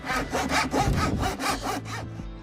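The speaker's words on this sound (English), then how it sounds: "This is an old farrier's rasp for horseshoeing." An old, dulled farrier's horseshoeing rasp files with loud rhythmic back-and-forth strokes, about six rough scraping passes close up, with no talking.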